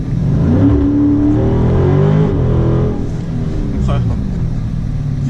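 A 2018 Dodge Charger 392 R/T Scat Pack V8 revs hard under acceleration from a stop, its loud engine note rising steadily through the clip with a brief dip near the end, heard from inside the car.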